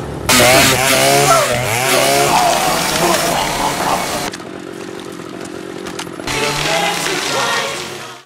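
Chainsaw from the horror film Terrifier 3, a loud, steady engine roar that runs throughout, with voices and film sound mixed over it and a brief quieter stretch midway.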